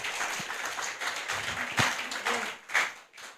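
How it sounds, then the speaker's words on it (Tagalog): Scattered, fairly quiet clapping from a church congregation comes in uneven bursts, with a few sharper claps standing out over a thin, patchy patter. "Palakpak nga para sa Lord."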